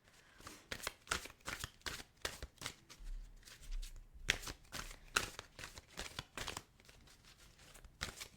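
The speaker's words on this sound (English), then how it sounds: "I'm going to pull a Soul Truth card for you as well to help give you some guidance on this month" Oracle cards are shuffled by hand in a series of quick, crisp riffling bursts, close and fairly quiet, with short pauses between each pass.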